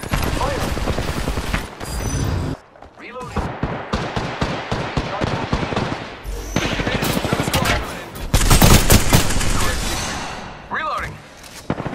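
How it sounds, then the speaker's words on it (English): Rapid automatic gunfire in a video game firefight, loud and dense bursts with brief pauses, a lull near the middle then heavier volleys, with a player talking over the shooting. "Opening fire on the enemy"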